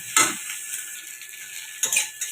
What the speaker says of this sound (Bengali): এরকম নেড়ে একদম ঝুরি ভাজা করে নেব